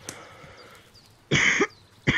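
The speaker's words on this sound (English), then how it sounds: "Pardon me as I have a little bit of a cough." A person's cough: one harsh, broad burst lasting about a third of a second, then the start of a second short cough, over an otherwise quiet background with faint tones.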